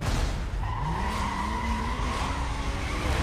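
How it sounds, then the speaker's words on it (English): Continuous screeching tire squeal from a car doing burnouts in Need For Speed Most Wanted, a sustained loud whine over steady engine roar with no break for the whole stretch. "Just always sitting there doing burnouts."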